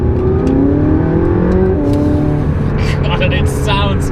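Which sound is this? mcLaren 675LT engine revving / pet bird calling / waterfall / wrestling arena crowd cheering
mcLaren 675LT engine revving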